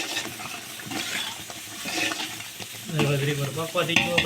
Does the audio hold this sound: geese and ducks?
no